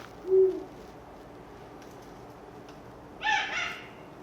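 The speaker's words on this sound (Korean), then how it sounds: "이게 수리부엉이라는 그러한 아주 멋진 새인데요." A recording of a Eurasian eagle-owl is played back. One deep, short hoot sounds near the start, and a harsher, noisier call follows a few seconds later. No one talks.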